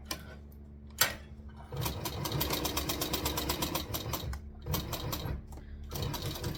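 A sewing machine stitching fabric runs in close, rapid bursts, with a mechanical ticking rhythm and brief pauses between runs. There is no talk.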